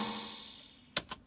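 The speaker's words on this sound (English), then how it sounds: "and then for example this is the delay, just press enter, it's gonna sound like this." A short sound in studio music software, run through a delay effect, fades from a bright sustained tone into quiet, followed by two crisp echoing taps in quick succession.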